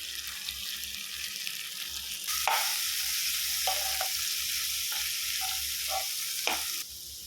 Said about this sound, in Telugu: ఇది కొద్దిసేపు మంచిగా ఫ్రై కావాలి